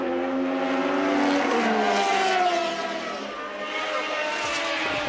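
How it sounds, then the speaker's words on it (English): A Renault turbo Formula 1 car from 1981, running rough, screams past on a racing circuit, a loud engine wail that bends downward in pitch as it passes, then a lower, sputtering drone as it moves away. "I'm just listening to the Renault of Arnoux as he went past, and his engine sounds distinctly rough"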